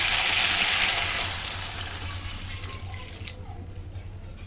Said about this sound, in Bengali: এখন আমি জলের জন্য জল দিয়ে দেবো।